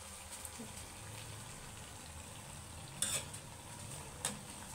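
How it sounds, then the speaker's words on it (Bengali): Eggplant fritters fry in hot oil with a soft, steady sizzle and low bubbling, punctuated by two brief metallic clinks of a utensil against the pan. "বেগুনি ভাজা শেষ পর্যায়ে।"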